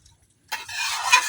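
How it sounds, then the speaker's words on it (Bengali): Water is poured into a pot of sautéed soaked lentils, a sudden close splash and hissing rush that starts after a brief silence and keeps gushing steadily to the end. "এখন পরিমাণ মতো পানি দিয়ে দেন"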